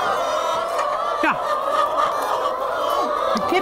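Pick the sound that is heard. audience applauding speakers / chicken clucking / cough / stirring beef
chicken clucking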